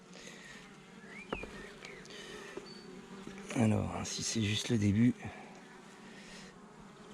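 Honeybees buzz close by at an open beehive during an inspection, a steady insect drone that swells loudest in the middle while someone speaks French over it.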